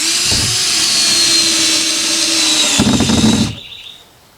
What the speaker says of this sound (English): Now, we'll put some more bolts in, or screws in.